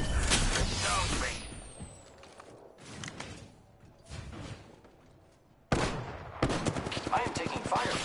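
Bursts of Apex Legends gunfire, with sharp cracks and rapid automatic volleys rising and fading, loud at the start and again after a sudden cut, while game voices talk in between.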